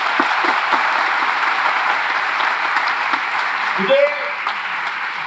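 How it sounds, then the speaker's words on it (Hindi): A large audience at a ceremony honouring ex-servicemen and cadets applauds in a sustained, dense wash of clapping, loud and even throughout, with a voice briefly heard near the end. "जोर से ताली बजाइए अपने आप के लिए।"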